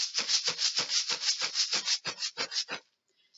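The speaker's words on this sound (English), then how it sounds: "I'm going to bring back the oatmeal bucket. This container has some oatmeal in it," A plastic oatmeal bucket holding some oats is shaken in a quick steady rhythm, about a dozen close, bright rattling swishes in a row before stopping abruptly, with no talking.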